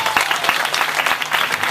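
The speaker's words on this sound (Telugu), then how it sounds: "అందరూ చప్పట్లు కొట్టండి" An audience claps at a church meeting in Chittoor, a brief, dense burst of steady applause with no speech over it.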